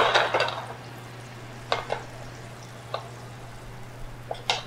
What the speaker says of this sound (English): We're gonna melt this butter down.